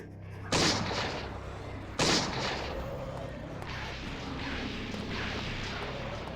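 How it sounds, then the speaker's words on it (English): Two loud, sharp flintlock pistol shots in a video game, a second and a half apart, each with a booming blast and a long rumbling tail into a dark ambient backdrop. "firing pistols at weird things. These flintlocks are not proving very effective"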